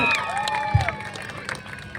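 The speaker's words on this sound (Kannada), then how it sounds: "ಜೋರಾದ ಚಪ್ಪಾಳೆ ಬರಲಿ ಫಾರ್ ಶಿವಣ್ಣ ಸರ್" A crowd claps and cheers for the chief guest at a hypermart's fourth anniversary celebration, a steady, dense wash of applause with brief louder bursts and faint background music tones.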